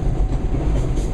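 An Alaska Railroad passenger train rolls steadily along the track, with a loud, continuous low rumble and rattle from the cars throughout, and no talking.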